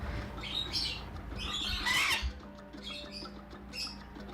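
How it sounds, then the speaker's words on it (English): A medium sulphur-crested cockatoo gives several harsh, raspy squawks at close range, the loudest burst near the middle, with quieter calls around it over a low background rumble. "So Floyd is a medium sulfur crested."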